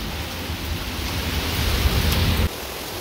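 Heavy rain pours steadily during a thunderstorm, a dense and fairly loud hiss with a deeper rumble that swells and then drops off abruptly.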